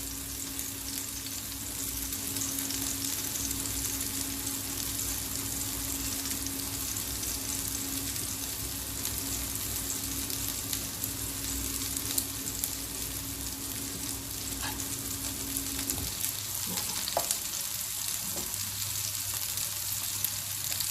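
Turkey kebabs frying in oil on a low flame over a big burner, a steady close sizzle throughout with a few faint clinks and a low hum near the end, no talking.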